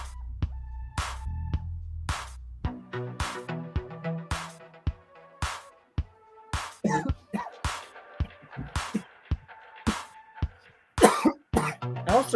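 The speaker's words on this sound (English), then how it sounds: "Just now I just choked on a little bit of my drink." A person coughs after choking on a drink, with a string of short sharp coughs and throat clearing at an uneven rhythm, close and fairly loud, alone with no talk.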